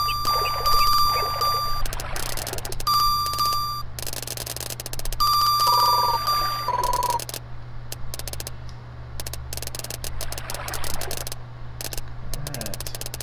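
Repeated electronic warning beeps from the Bassin's Black Bass SNES fishing game, sounding in several short steady bursts that sometimes shift pitch, over a continuous low game hum.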